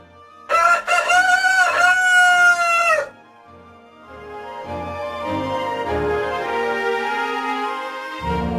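A rooster lets out a loud, close crow lasting a few seconds, followed by a second, fainter rooster crowing farther off, overlapping with more distant crowing at the end.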